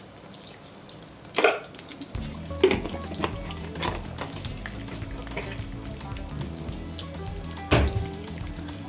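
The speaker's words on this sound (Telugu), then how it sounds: "ఇలా వేగుతున్నప్పుడు తాలింపు గింజలు కూడా వేసుకుందాము." Crushed garlic, small onions and tempering seeds frying in oil for an Andhra-style boiled potato fry, a steady close sizzle with occasional sharp pops and stirring clatters, no talking.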